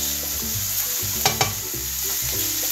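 A spoon stirs a curried potato and pea filling with onion, turmeric and curry powder in a pan. It scrapes in rhythmic strokes over a steady sizzle, with two sharper knocks midway and no voices.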